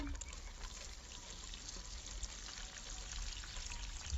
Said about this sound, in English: I merely came back to water the roses